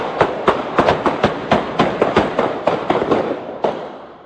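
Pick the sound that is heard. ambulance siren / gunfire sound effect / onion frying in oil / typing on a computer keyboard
gunfire sound effect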